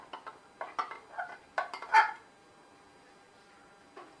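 Moong dal and sago being stirred together in a pot, a string of quick scraping, clinking spoon strokes close up, then a pause and one faint final tap.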